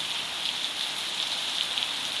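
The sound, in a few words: heavy rain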